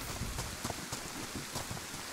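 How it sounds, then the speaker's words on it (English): Rain pours steadily outside in the DayZ survival game, a soft continuous patter with scattered louder drops, heard alone with no voices. "fucking red rain outside."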